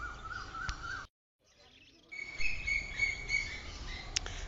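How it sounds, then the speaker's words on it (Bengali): Budgerigars for sale at the Garia bird market chirp and chatter in a busy flock, a short gap of quiet interrupting the steady high twittering, no talk. "বদ্রি পাখি দেখতে পাচ্ছেন"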